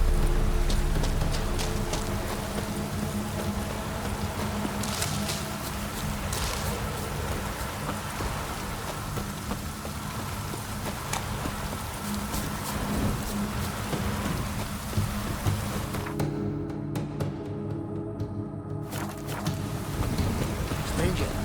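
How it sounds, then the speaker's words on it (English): Stormy weather in the video game Witcher 3: steady heavy rain hisses throughout with low thunder rumbling beneath, a brief drop partway, while a voice speaks over it. "A storm, damn it."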